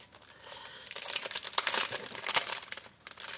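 A wrapped package of little pictures being opened up close, with crinkly plastic crackling and tearing in quick, uneven bursts for a few seconds, and no talk.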